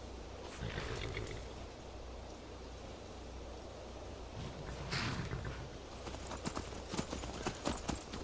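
Rhythmic hoofbeats of a galloping horse in the video game Skyrim clatter over a low steady rumble, with occasional sharper thuds and a brief animal-like roar in the background.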